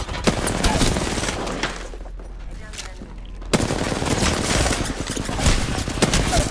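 Rapid, dense bursts of gunfire from the video game Apex Legends, nearly continuous with a brief lull in the middle, with a player's voice faintly under the shots.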